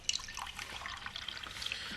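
A drink being poured into a cup at home, a faint light trickle with small splashy ticks and drips, quiet and close, with no talk over it.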